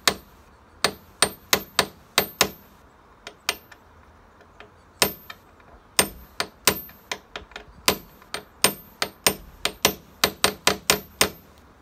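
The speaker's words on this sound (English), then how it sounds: "get yourself a little hammer and a punch, just pop it on that there and just tap it in." A small hammer taps a metal punch on a car boot hinge of a Peugeot 107, Toyota Aygo or Citroen C1, giving sharp, close metallic strikes in irregular quick bursts with short pauses between them.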